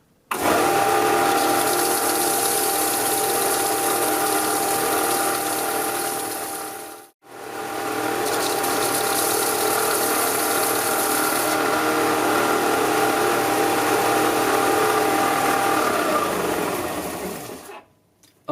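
A bone guitar nut is held by hand against a powered sander, whose steady motor whir and grinding hum run loud and close, briefly dipping once before spinning down at the end.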